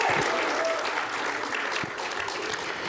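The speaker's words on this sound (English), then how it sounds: "Give them another round of applause." A crowd applauds for the Crim Singers at an event honoring Diane Nash, with steady, dense clapping that stays loud and even throughout.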